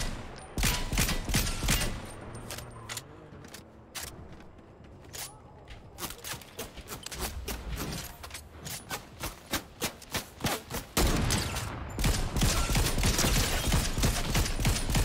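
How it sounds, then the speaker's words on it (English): Gunfire in Fortnite, with dense bursts of rapid shots at the start, sparser single cracks in the middle, then sustained rapid automatic fire at the end, all loud and close. "Look, there's an army shooting at us."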